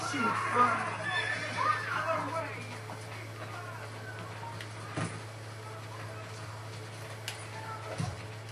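A horse whinnies in a short burst near the start of Assassin's Creed Brotherhood gameplay, followed by a few thuds and clicks over a steady background hum, with voices at times.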